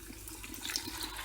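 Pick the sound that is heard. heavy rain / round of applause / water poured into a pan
water poured into a pan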